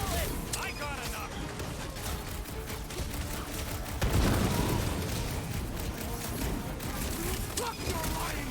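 Rapid gunfire bursts and booming impacts from combat in the Guardians of the Galaxy video game, a dense continuous fusillade with one heavier blast midway, mixed under speech.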